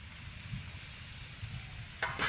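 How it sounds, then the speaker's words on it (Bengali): Spiced mashed potato filling with chopped coriander leaves stirred in a hot pan, a soft continuous sizzle with low scraping strokes and a brief louder scrape near the end. "ধনে পাতাটা দিয়েও কিন্তু আমি একটু নেড়ে নেব"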